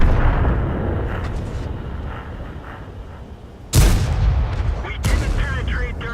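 The main gun of an AT8 British tank destroyer fires in World of Tanks: a loud, sharp boom hits partway through, followed by a second blast about a second later, over a low rumbling engine bed.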